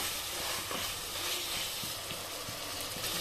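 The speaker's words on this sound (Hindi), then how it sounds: "इसको कम से कम मैं 5 मिनट तक इसी तरीके से भूनते रहूँगी" Mutton and onions fry in a pot, a continuous close hiss and sizzle with faint periodic scraping taps as they are stirred.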